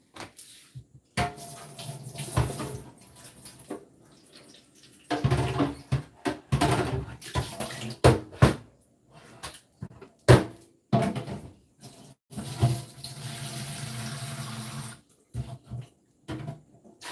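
Tap water is poured into a BARDEFU Bf-5082 blender in intermittent bursts of splashing flow, separated by clunks and knocks of handling and quiet gaps, close and moderately loud, with no talk.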